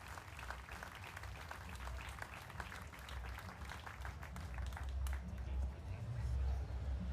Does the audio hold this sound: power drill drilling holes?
no